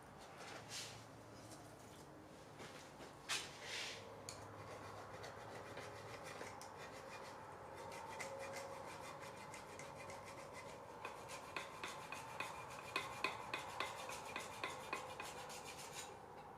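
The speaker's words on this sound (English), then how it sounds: "Itty bitty little files." Tiny hand files rasp against a notch in forged metal, a faint scraping that builds into a quicker series of short rhythmic strokes toward the end, close by in a quiet workshop.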